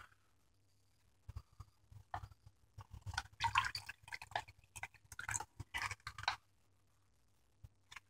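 Water poured from a bottle into a Canadian military ration pouch, heard as irregular close splashes, drips and gurgles in short bursts against a quiet background, with a few faint trickles trailing off at the end.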